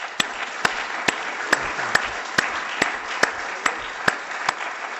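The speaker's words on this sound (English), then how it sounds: "So please join me with a round of applause for our Foresight faculty." Audience at a keynote event applauding faculty, a steady wash of many hands clapping, with one loud nearby clapper striking at an even, regular beat on top of the crowd.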